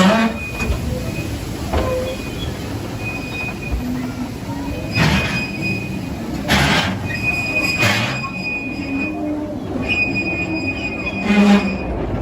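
Theme park mine train ride rolling over a wooden trestle bridge, a steady loud rumble of wheels and cars with metallic squeals and clanks, an announcer's voice over it.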